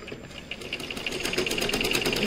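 A sewing machine runs steadily along the edge of a square neck binding strip, its rapid rhythmic stitching growing slightly louder and denser over a couple of seconds, close by with no talking.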